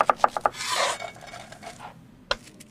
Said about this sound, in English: Peel an onion and chop it finely.